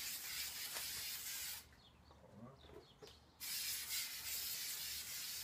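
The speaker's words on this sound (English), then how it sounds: "we're gonna spray this piece here" Spray paint hissing from an aerosol can onto a prop piece for a plutonium display case, in two sustained bursts with a short pause between them, close and fairly loud.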